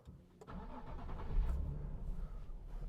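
A 2014 Nissan 370Z with its 3.7-litre V6 cranks briefly, then catches and settles into a steady, throaty idle, close and moderately loud with no talk over it.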